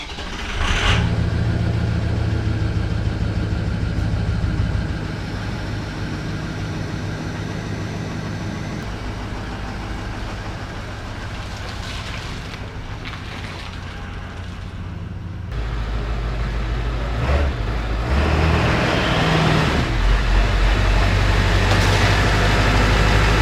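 A 2001 Ford Super Duty truck with the 7.3 engine idles in a steady, deep rumble close by. The loudness shifts slightly partway through, and no one speaks.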